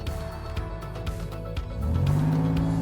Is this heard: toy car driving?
yes